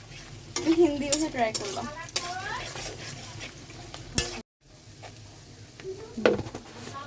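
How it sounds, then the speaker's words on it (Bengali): Onions and green chilies frying in oil for noodles, a close crackling sizzle with stirring clatter, broken by a brief dropout; a voice speaks briefly over it. "তেলের মধ্যে পেঁয়াজ দিয়ে দিছি।"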